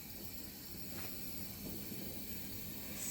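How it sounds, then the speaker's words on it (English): Steam hisses steadily out of a waffle maker, a faint continuous airy hiss with a slight rise toward the end and no talking. "and obviously there's air escaping, and it's making this hilarious sound"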